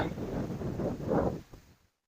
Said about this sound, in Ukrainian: Ох, який вітер.